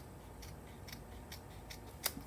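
Scissors snip through paper while a needle keeper is made from craft scraps, the material tough to cut: about five soft, evenly spaced crisp cuts with no talking.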